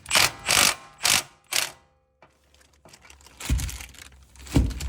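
A socket wrench ratchets against the oil drain plug of an Infiniti QX60 during a DIY oil change. Close, loud bursts of clicking and grinding come in short repeated strokes, with a quieter scraping stretch between them.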